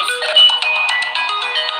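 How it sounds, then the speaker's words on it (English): A phone ringtone plays loud and close as a continuous melodic electronic tune that fills the whole stretch, with no speech over it. "Somebody phone a ring."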